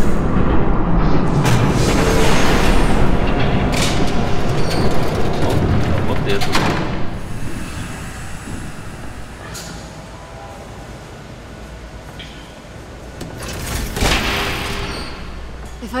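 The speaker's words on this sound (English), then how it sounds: "There's a train coming." In the video game Batman: The Telltale Series, a train thunders past loud and close with a dense rumbling roar that thins out midway, then sharp metallic bursts return toward the end, with speech mixed in.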